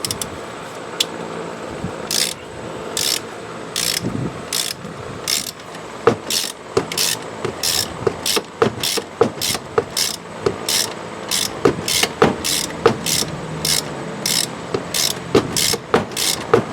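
Ratchet wrench cranking a 9/16 bolt on a 1999 Pontiac Grand Am 2.4L engine during timing chain work, a steady run of rapid metallic clicks with brief pauses between strokes, close and fairly loud.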